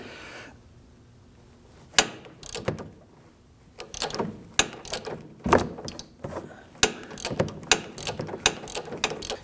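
A ratchet wrench turns the sway bar link nut under the front of a 2009-2017 Volvo XC60, with bursts of quick ratcheting clicks separated by pauses, close by and with no talk.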